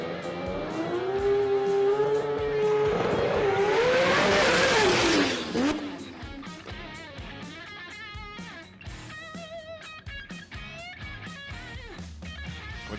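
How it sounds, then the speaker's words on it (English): A rotary-engined drag race car at Willowbank Raceway screams down the quarter mile, a loud buzzing wail climbing through gear changes, then fading into the distance as crackling pops and backfires follow. "Listen to the Mazfix rotor do its thing down the Willowbank quarter mile."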